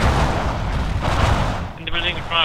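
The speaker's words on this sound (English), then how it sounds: "There's a machine gun at the 88." Machine gun fire in Forgotten Hope 2 on the Seelow Heights map, near an 88 anti-tank gun, in a loud, dense, continuous clatter of battle noise that barely lets up.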